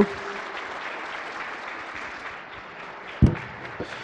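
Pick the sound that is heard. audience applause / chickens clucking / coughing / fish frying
audience applause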